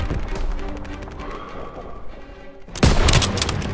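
Gunfire in Call of Duty: WWII, a loud burst of shots breaking in near the end after a stretch of quieter battle ambience.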